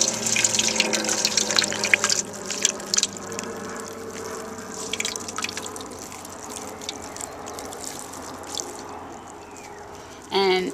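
Water pours and trickles into a seed germinating kit, with splashy pouring up front that thins to faint drips, then a short burst of pouring at the end.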